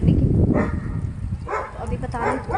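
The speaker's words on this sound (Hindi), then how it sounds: "आपको आवाज़ सुनाई दे रही होगी भौंकने की।" A dog on a rooftop in Rishikesh after rain gives a few short barks and yips amid background noise, with a person talking over it.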